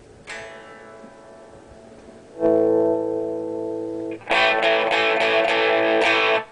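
An electric guitar plays through a Lenahan London Lead amplifier with mild master-volume distortion: a single ringing note, then a sustained chord, then a brighter, grittier strummed chord.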